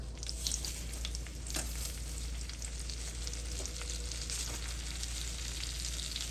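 Breadcrumbs sizzling in a pan of melted butter and olive oil, a constant dense close crackle with faint stirring scrapes underneath, no voices.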